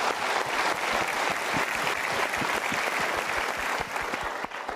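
A studio audience at an Indonesian motivational talk show claps steadily and loudly, a dense wash of applause that holds for several seconds before easing slightly at the end.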